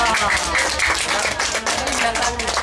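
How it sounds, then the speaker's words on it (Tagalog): Clapping from the audience at a children's birthday party with clowns and a magic show, a dense steady patter of hands lasting a few seconds, close and fairly loud, mixed with excited voices and chatter. "Oh, palakpak na."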